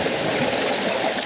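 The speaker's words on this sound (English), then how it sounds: "So I'm going to wait for a larger wave to come in and capture that" Sea waves wash and splash onto a rocky shoreline in a continuous, fairly loud rush of water with no voices.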